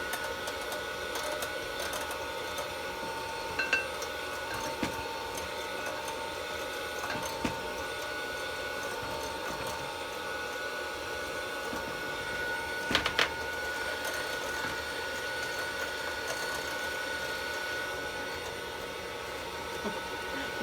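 An electric mixer creams butter while white sugar is added for oatmeal raisin cookies. It makes a steady, fairly quiet whirring hum throughout, with a few faint clicks and taps from the bowl.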